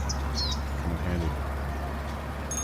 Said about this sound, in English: I hear those bird noises are driving your cats crazy right now